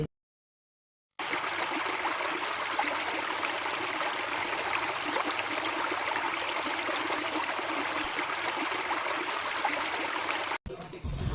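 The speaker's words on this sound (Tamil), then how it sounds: "அந்த அருவி விழுகிற சத்தமும் கொஞ்சம் கொஞ்சமாக கேட்க ஆரம்பிச்சிருச்சு." A natural waterfall at Wadi Dafta in the UAE gives a steady, moderately quiet rush of falling water. The sound starts after a short silence and carries on without a break, with no speech.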